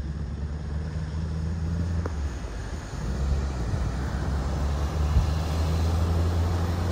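A car-sharing car creeps slowly through deep flood water, its engine a steady low rumble mixed with a broad wash of water spray that swells slightly toward the end.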